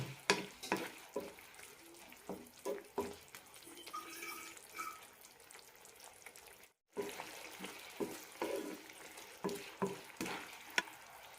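Lady's finger curry cooking in a pan, stirred at intervals with soft scrapes and clacks over a low bubbling sizzle, a brief gap midway, no voices.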